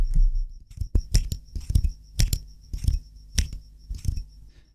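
Spring of a genuine Pilot capless fountain pen mechanism clicked repeatedly at close range, giving a steady run of sharp metallic ticks and light rattles, with no speech.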